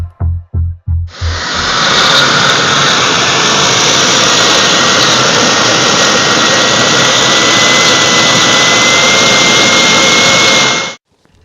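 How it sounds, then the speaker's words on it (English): A homemade turbojet engine built from a T3/T4 turbocharger starts with a few sharp low pulses, then roars up into a loud, steady, hissing jet whine. The roar holds for about nine seconds and cuts off abruptly. "we're going to be doing a teardown rebuild of this turbojet engine."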